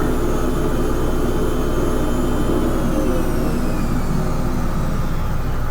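Jet airliner engines in a flight simulator game, descending toward Mobile with the throttle being pulled back, give a steady, loud broadband roar with a faint high whine, holding evenly throughout with no voices.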